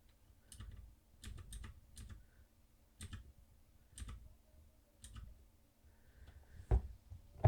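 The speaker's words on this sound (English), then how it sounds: "if I actually use my keyboard" Soft clicking keystrokes on a computer keyboard, tapped in irregular clusters while setting up UniFi Protect software, close and fairly quiet, with no talking.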